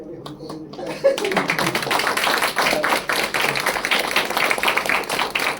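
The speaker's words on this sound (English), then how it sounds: "Big round of applause to felicitate Santosh with the small plant here." Steady applause from a crowd starts after a brief pause and continues evenly, dense clapping close by.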